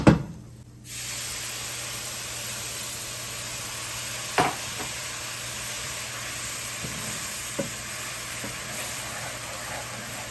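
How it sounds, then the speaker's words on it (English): Flour roux cooking in oil in a pan, a steady broadband sizzle and hiss close by, broken by a few spatula scrapes and soft taps, with no talk. "I'm just cooking it for about a minute to get the flour cooked where it doesn't taste like raw flour"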